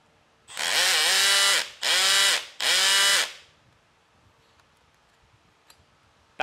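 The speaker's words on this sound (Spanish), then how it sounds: "Taladro." A power drill runs in three close, loud bursts, each a whirring rise and hold with rattling hammering, separated by short pauses and followed by near silence with a few faint clicks.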